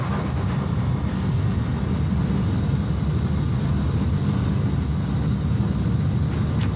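Jet engines of a British Airways Airbus A320 at takeoff power make a steady, loud low roar with a broad rushing hiss, continuous and unchanging from start to finish.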